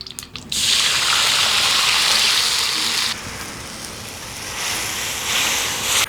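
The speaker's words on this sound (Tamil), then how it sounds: "நம்ம இப்போ ஆட்டி வச்ச மசாலாவை எடுத்து ஊற்றிக்கலாங்க." Ground masala paste is poured into a hot pan with a sudden loud hissing rush, then a lighter steady sizzle that swells again near the end. The sound is close and there is no speech.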